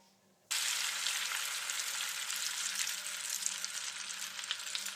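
Vegetables frying in a pan until golden brown, a sudden loud, steady sizzle that starts after a quiet moment and holds at close range with slight crackles and no talking.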